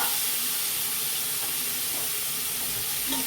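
Pointed gourd (patol) fries in oil in a pan, giving a dense, continuous hissing sizzle at steady loudness with faint occasional pops.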